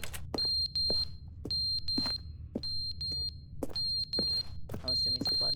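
A smoke detector in The Stanley Parable chirps in repeated pairs of shrill, high electronic beeps at a steady pace, mixed with scattered clicks and soft background noise.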